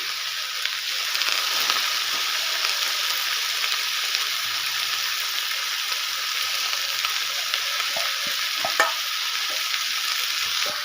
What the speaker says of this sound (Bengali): এখন খুন্তি দিয়ে নেড়ে নেব